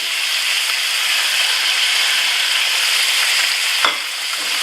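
Ginger and garlic sizzle and fry steadily in a pan with chicken and raw broccoli for honey sriracha chicken, a continuous hiss with stirring and one brief clack near the end.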